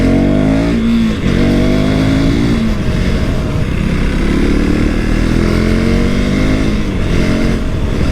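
A 2024 KTM Duke 390 motorcycle being ridden hard, its engine loud and close, revving and shifting, with pitch rising and falling through the gears across the whole stretch.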